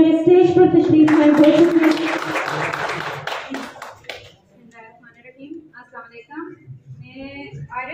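Applause from the audience at an NGO day event in a chamber of commerce hall, dense and loud for the first three seconds, then thinning into scattered claps as someone speaks.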